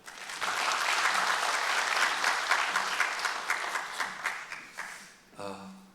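A church congregation applauds as a pastor is welcomed to the stage, steady dense clapping that thins into scattered claps toward the end before a voice speaks briefly.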